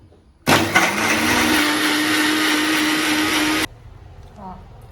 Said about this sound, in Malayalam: അപ്പൊ നമുക്ക് ജ്യൂസ് അടിച്ചെടുക്കാം.